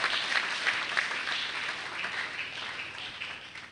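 Conference audience applauding at a hybrid communication and media conference, a steady wash of many hands clapping that starts loud and gradually fades, with no talking over it.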